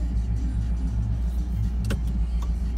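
A car drives through morning traffic on the way to work, heard from inside as a steady, close engine rumble and road drone with no talking.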